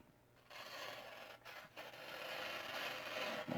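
Mcusta MC-0125D folding knife from Seki, Japan slicing through newspaper at the corner, a steady close papery rasp and scrape lasting a few seconds with a couple of brief pauses.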